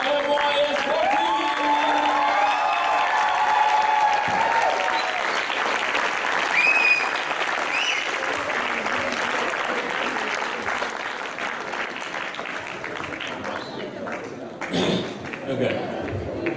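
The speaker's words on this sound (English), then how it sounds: "Let's hear a huge round of applause for MYS 14." Sustained applause from a large audience at the Muscat Youth Forum 2014, MYS 14, filling the room steadily before tapering slightly near the end, with a voice speaking over it.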